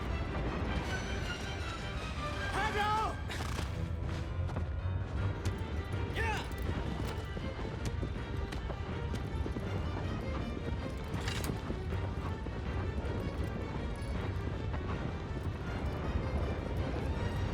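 Horse hooves clip-clop through the Shadow of the Colossus game soundscape, a steady rhythm of galloping beats mixed under loud music and other game sounds across the whole stretch.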